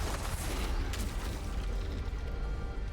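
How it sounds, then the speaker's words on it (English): Booming explosions from the tactical video game The Last Spell, a dense continuous rumble of blasts with a heavy low-end roar, loud and sustained throughout with no talk over it. "Explosions be like that."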